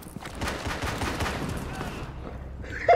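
Pistol gunfire in a video game crackles in quick, overlapping bursts over a continuous loud background of game noise, with a voice speaking faintly beneath it.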